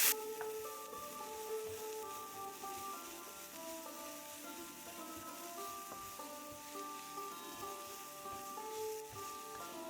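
Whole spices fry in oil in a pan over medium-high heat for a samosa filling, giving a steady, soft crackling sizzle with scattered pops and light stirring clicks throughout, and no one speaking.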